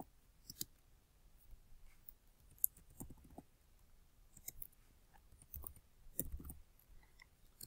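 Quiet, irregular clicks and taps of keys being pressed, sparse and close, with soft pauses between short runs; no voices.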